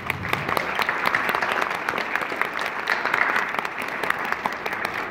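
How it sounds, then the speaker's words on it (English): An audience at an MLK observance at Abington High applauds the first woman to lead the organization, with sustained, even clapping from a sizable crowd, moderately loud and unbroken. "That deserves a round of applause."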